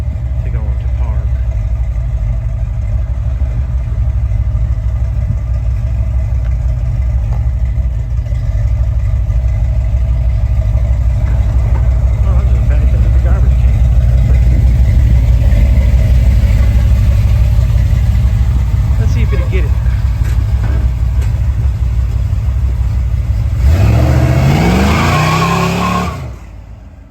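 An Oldsmobile Cutlass 442 G-body with a small block Chevy V8 rumbles at a steady, deep idle for a long stretch while someone talks nearby, then it revs up sharply near the end before cutting off.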